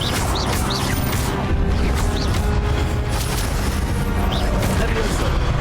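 Incendio fire spell cast repeatedly in the video game Hogwarts Legacy: dense, continuous fiery rumble and booming bursts with bright crackles, loud and steady, over game ambience.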